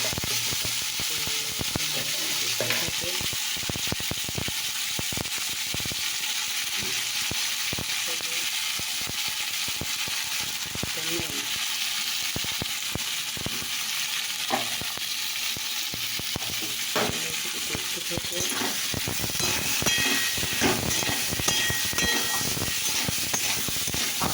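Potato paste fries in oil tempered with five-spice, giving a steady, loud sizzling hiss throughout with frequent sharp crackles and spits, close up and with no talk.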